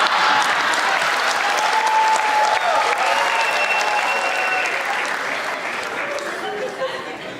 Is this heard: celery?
no